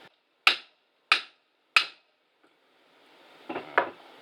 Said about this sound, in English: put this in the vise and hammer on it